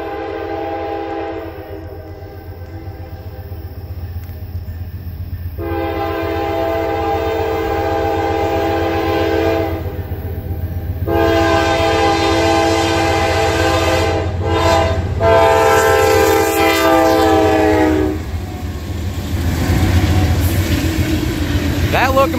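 A Norfolk Southern freight train with leading and trailing locomotives rumbles steadily past in Karns, Pennsylvania. Several long horn blasts sound over the engine noise, and louder rolling wheel noise builds toward the end.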